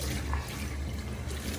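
Water drained from a newly installed boiler's heating system is poured into a sample bottle, a close, continuous gurgling splash filling the short moment.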